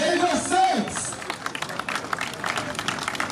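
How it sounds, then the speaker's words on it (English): A crowd at a 40-day Fidau prayer reception in Lagos breaks into applause, dense continuous clapping that rolls on steadily under a murmur of voices. "A thunderous round of applause"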